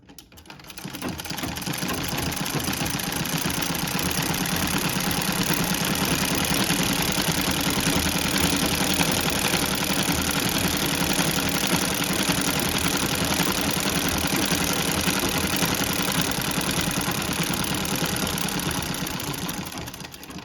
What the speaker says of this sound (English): this one shows here that it sews a lovely little scallop along the fabric